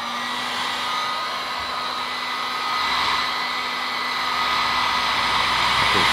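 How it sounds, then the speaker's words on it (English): A blow dryer runs steadily close by to dry paint, a constant breathy whoosh with a high whine that grows slightly louder toward the end. "you could use a blow dryer to speed up this process"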